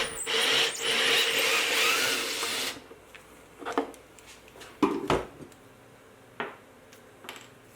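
A step drill bores a 22mm hole for industrial switches through a Cincoze P2002 panel PC enclosure, a loud, close grinding whir lasting a few seconds before cutting off, followed by scattered light clicks and taps of handling.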